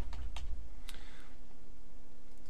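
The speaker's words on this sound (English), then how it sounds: "which we can also do simply by clicking on it and typing" Short bursts of computer keyboard typing while entering a chart title in Word 2010, a few quick clicks near the start and one near the end over a quiet background hum.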